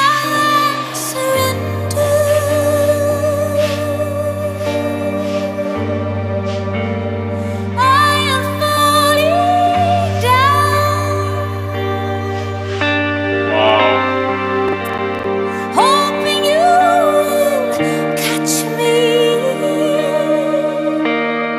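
Live guitar and female vocals from a performance at the Old Theater in Torshavn, with sustained low chords, soaring sung lines and reverb-rich effects filling the whole stretch at a steady, full level.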